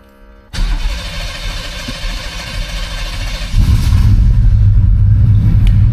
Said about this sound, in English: So that's a cold start